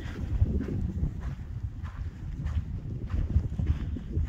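Wind gusts on a high mountain trail near Mt Whitney, a low rumbling buffet against the microphone that surges and eases continuously, close and moderately loud, with no voices.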